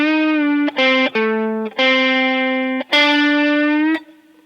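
A distorted electric guitar plays a four-second phrase from a song, several sustained notes with short breaks between them and one brief bend, loud and close, ending in a quick cutoff.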